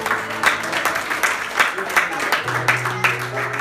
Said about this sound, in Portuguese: quem acredita nisso, aplauda o nome do Senhor